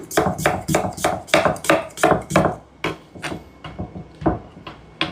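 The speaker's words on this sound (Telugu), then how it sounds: "బంగాళదుంపల్ని ఇలా శుభ్రంగా కడుక్కున్నాం కదా, ఇప్పుడు కట్ చేసుకుందాం. ముందు ఇలా నిలువుగా కట్ చేసుకోవాలి." A knife cuts through washed potatoes lengthwise on a board, a run of about a dozen sharp, close chops in a quick even rhythm, then a few slower, spaced cuts, with no talk.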